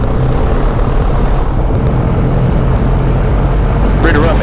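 A small single-engine airplane runs up to 1800 RPM on the ground, a loud, steady propeller and engine drone filling the cabin close-up, with a brief burst of other noise near the end.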